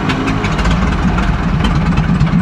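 A 1920s White engine firing up for its very first start, with the throttle open and the choke pulled, running as a steady, close, rough idle that holds without any talk over it.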